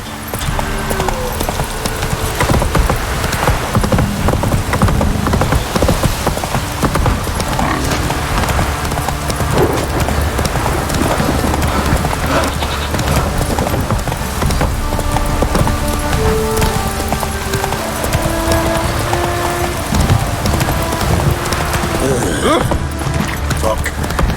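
Galloping horse hooves pound continuously in The Witcher 3, fast and close, set in a dense, loud game soundscape of music and ambience.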